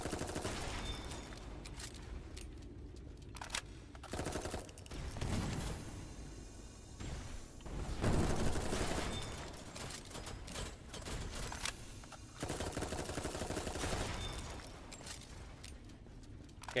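Shotgun blasts ring out in a video game firefight, heavy booming shots recurring irregularly amid clattering mechanical reloads and rattles, loud and close, with the densest volleys clustered around the middle and later stretches.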